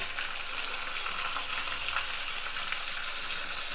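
Ginger pieces and turmeric sizzling in a hot pan, a dense, steady crackling fry with no voices over it.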